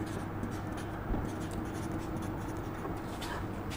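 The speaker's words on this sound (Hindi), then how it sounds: "एक बार मैं लिख भी देता हूँ, समझ में आएगा।" Chalk or marker scratching across a board during a physics lesson on vectors, a soft continuous scraping with small strokes and pauses, fairly quiet and steady in a room with no talking.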